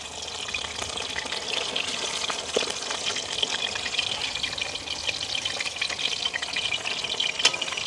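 Fish frying in a pan for a village-style fish curry, a steady bright sizzle and crackle of oil running throughout at moderate level, with occasional louder pops and stirring clinks, no voices.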